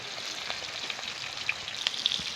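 Grated coconut sautéing in oil for an eggplant curry masala, a soft, even, close sizzle with a few sharp pops and crackles near the end, no voices.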